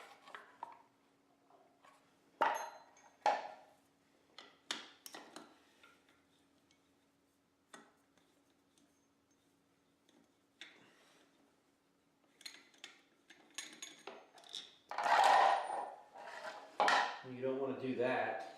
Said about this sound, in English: I'm just laying these bolts down on the floor in kind of a rough representation here.